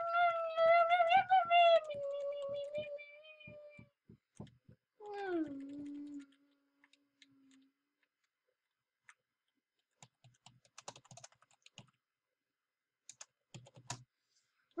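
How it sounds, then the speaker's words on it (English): Several cats meow in a close series of rising and falling calls, one long drawn-out meow trailing off, followed by sparse faint ticks and clicks in an otherwise quiet room. "Record the nine cats."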